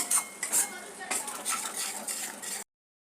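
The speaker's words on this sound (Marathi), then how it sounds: "2 मिनटं आपल्याला परत त्याला परतून घ्यायचं आहे." Spoon scraping and clinking against a pan while masala paste mixed with water is stir-fried, a run of close, irregular metallic scrapes and taps with no talk.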